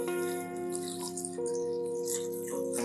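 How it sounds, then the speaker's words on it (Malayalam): Water poured into a pot of jackfruit curry with drumstick, curry leaves and salt, a steady close trickle and splash against a faint tonal background hum, without talk. "വെള്ളം ഒഴിക്കാം."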